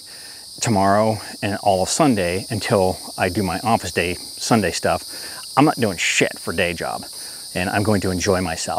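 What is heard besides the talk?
cicadas singing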